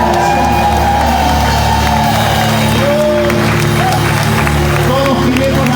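Church congregation applauding and cheering during a Sunday service, a steady, loud wash of crowd noise with clapping, shouts and whoops throughout, with voices mixed in.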